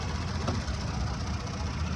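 The engine fan of a third-generation Toyota Tacoma TRD Off Road with a naturally aspirated engine whirs under the hood at idle, a steady low droning hum with faint knocking texture, close and continuous.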